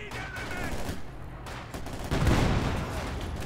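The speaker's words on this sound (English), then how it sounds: "Anti-tank rifle grenade going off there on the T-34." In Company of Heroes 2, an anti-tank rifle grenade bursts on a T-34 tank amid a dense, rumbling wash of gunfire and battle noise, building louder toward the end.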